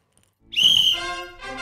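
A single blown whistle gives a sharp, shrill tone that starts abruptly after a short silence, holds briefly, then shifts into a softer wavering continuation, with no talking.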